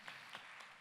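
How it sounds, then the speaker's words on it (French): Audience applause at an award ceremony for a foundation prize at a health forum, a brief burst of soft clapping from a crowd, steady and fairly faint. "on peut vous applaudir effectivement une dernière fois"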